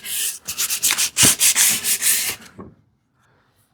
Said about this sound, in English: I will sand it right now because I've started sanding.